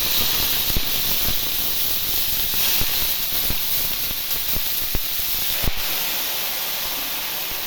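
Bathua greens tossed into hot oil with fried garlic and black cumin, giving a steady loud hissing sizzle with scattered sharp crackles and pops throughout.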